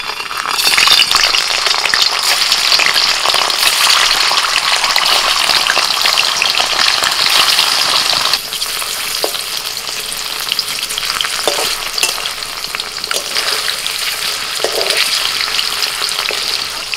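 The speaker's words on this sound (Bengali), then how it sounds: "তেলটা গরম হয়ে গেছে। এবার পনিরগুলো ছেড়ে দিচ্ছি।" Paneer pieces fry in hot white oil in a kadai. The sizzle is loud, dense and close, like a crackling hiss, then drops slightly midway and carries on steadily with occasional pops.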